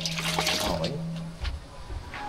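Water runs in a comfort room at a nature park in Bulacan, a close splashing flow with a few drips, while a voice talks over it.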